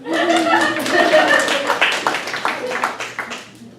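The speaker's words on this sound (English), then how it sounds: "You can applaud her." A small class group claps for a participant in a spiritual practice session, scattered handclaps that taper off near the end, mixed with overlapping voices talking.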